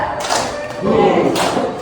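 Hands clap in a classroom clapping exercise, a few dull thuds spaced across the moment, mixed with a teacher's voice and ambient room noise.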